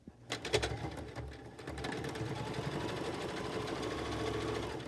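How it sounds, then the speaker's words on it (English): A sewing machine runs a zigzag stitch on a transport bag. It starts with a few quick bursts and then settles into a steady, close, continuous mechanical chatter. "I'm just gonna take the back side using a simple zigzag, just a simple zigzag stitch"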